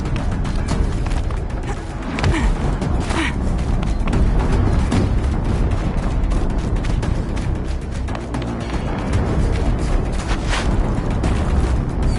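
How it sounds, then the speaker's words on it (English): Explosions in the video game Horizon Zero Dawn roll on as a loud, dense rumble of booms and crackling blasts, layered with debris and continuous chaotic game noise throughout. "An explosion."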